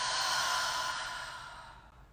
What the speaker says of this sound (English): and open mouth exhale.